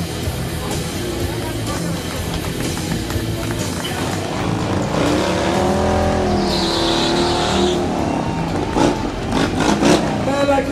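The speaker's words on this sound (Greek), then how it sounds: "Καίμε και τα λάστιχα, καίμε και τα λάστιχα." A Harley-Davidson Sportster motorcycle does a burnout at a club event, engine revving loudly with tires squealing and screeching in rising and falling waves, close and continuous, while an announcer talks over a loudspeaker.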